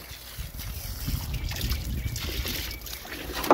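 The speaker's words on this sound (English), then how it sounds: "Water hose." A garden hose runs into a makeshift backyard swimming pool, giving a soft, continuous trickle and slosh of water that stays fairly faint throughout, with a brief louder splash at the very end.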